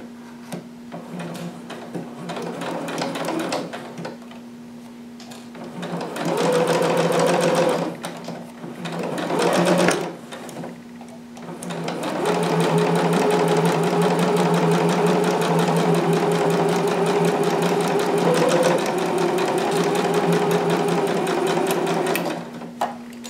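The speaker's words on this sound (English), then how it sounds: "starting at the top, you'll just start stitching" A home sewing machine stitches through jumpsuit fabric in a steady, close whirring run, with short bursts and pauses early on, then a long continuous stretch of stitching before it stops.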